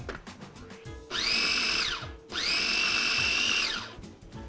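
A food processor pulses mint pesto with fresh lemon juice in two long bursts, each about a second, with a steady high whirring motor and a short pause between them.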